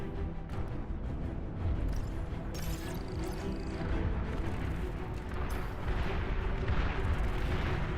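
Artillery fire from the real-time strategy game Beyond All Reason: a dense, continuous barrage of booms and rumbling blasts, loud and layered throughout with no clear gaps.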